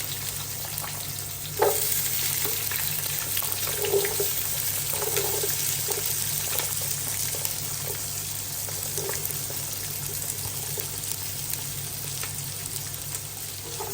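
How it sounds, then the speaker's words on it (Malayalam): Chopped and whole shallots fry in hot spice masala for a Kuttanad-style duck curry, a low steady sizzle with scattered pops and a few light stirring knocks, fairly quiet. "നമ്മൾക്കിനി അരിഞ്ഞ് വെച്ചേക്കുന്ന ചെറുള്ളിയും അരിയാത്ത ചെറുള്ളിയും അതിലേക്ക് ഇട്ട് കൊടുക്കാം."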